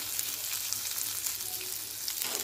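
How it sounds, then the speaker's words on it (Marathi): Onion, garlic cloves and dried red chillies fry in a pan, giving a continuous even sizzle with faint crackles close by and no talk. "आता इथे कांदा थोडासा भाजला की 4-5 लसूण पाकळ्या टाकायच्या आणि 4-5 सुक्या मिरच्या टाकायच्या"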